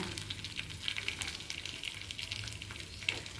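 Cashews and curry leaves fry in ghee with a soft, steady sizzle and light crackling pops, faint and close.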